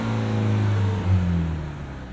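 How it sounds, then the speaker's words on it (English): A 2024 Toyota Tacoma SR XtraCab with an 8-speed automatic runs its engine with a throaty exhaust, giving a steady close low drone that swells briefly in a small rev before settling back. "Bit of a throaty exhaust"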